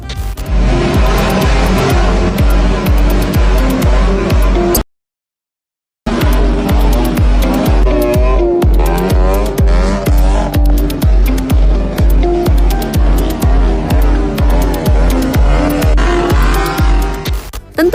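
Motorcycles fitted with horn-style exhausts produce loud, rapid popping exhaust that roars on continuously with pulsing rhythm, cutting out briefly before returning just as harsh and deafening.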